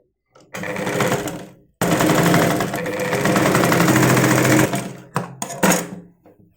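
Sewing machine stitching a saree blouse: a loud close whirring run that pauses briefly, then a longer steady run, ending in a few short stop-start bursts.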